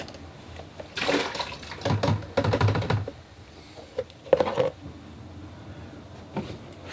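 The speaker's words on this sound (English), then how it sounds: "I'm going to change my water." Tap water runs while a watercolor painter changes the rinse water, coming in several uneven splashing bursts of a second or so with quieter gaps between, fairly close and with no talk.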